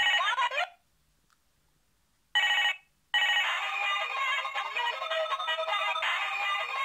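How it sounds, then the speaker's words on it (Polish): A Minion children's toy mobile phone rings with a bright electronic ringtone melody, cutting out for over a second, sounding briefly again, then playing continuously to the end, close and loud. "mamy połączenie"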